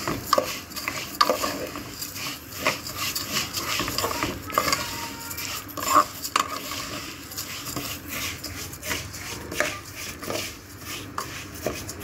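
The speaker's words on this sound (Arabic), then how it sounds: "الشعريه اللي نزلتها اهو، هبدا اقلب" Vermicelli frying in oil in a pot for koshari, stirred with a utensil, giving soft sizzling under repeated clinks and scrapes of metal against the pot, close by.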